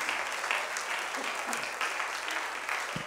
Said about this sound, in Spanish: Dele un aplauso al Señor de adoración.